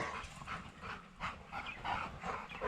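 Male dogs at a kennel whimper and yip in a string of short, fairly quiet whines, with light panting between them.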